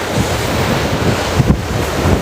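Ocean waves washing onto the shore in a continuous loud roar of surf, with wind buffeting the microphone and a couple of stronger surges near the end, no voices.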